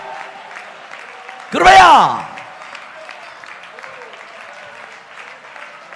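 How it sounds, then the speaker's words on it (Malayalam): A church congregation claps together in one brief, loud burst of applause during a Pentecostal sermon, rising sharply and fading within about half a second as the preacher speaks before and after. "ഒന്ന് കൈയടിച്ച് സ്തോത്രം പറഞ്ഞോ"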